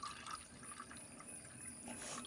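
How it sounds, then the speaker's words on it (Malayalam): Coffee poured from a pot into a cup in a home kitchen, a faint, brief trickle of liquid heard close by with no talking. "കപ്പിലോട്ട് നമുക്ക് കാപ്പി ഒഴിക്കാം"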